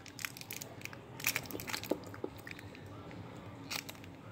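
Crunchy bites and chewing of a caramel candy, a few sharp crunches near the mic around the middle, then softer chewing over a quiet background.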